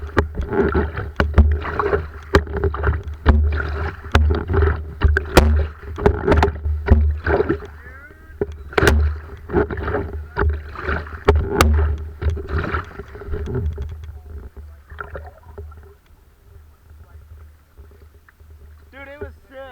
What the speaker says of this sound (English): We got another rapid, boys!